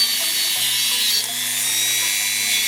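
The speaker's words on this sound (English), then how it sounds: "Same thing again, lockjaw pliers, run out with the Dremel" A Dremel rotary tool whining at high pitch as it grinds rust off the finial screw heads of a Dutch Zaandam clock, one steady close burst with a brief dip midway.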